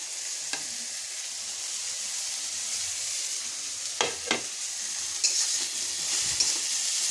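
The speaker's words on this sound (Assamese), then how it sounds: "চব ৰঙাকৈ ফ্ৰাই কৰি ল'ম।" Spices with turmeric fry in a hot pan, a steady close sizzle running throughout with a few brief stirring scrapes and clinks.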